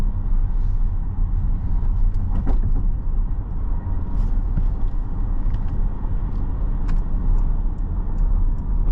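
Steady road rumble and low engine hum from inside a 2019 Porsche Cayenne E-Hybrid on the move, continuous and fairly loud, with a few faint clicks and rattles scattered through.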